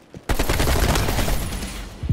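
Rapid automatic AK rifle fire in the Call of Duty Black Ops Cold War video game, a loud, sustained burst of shots after a brief quiet start, with a short trailing burst at the end.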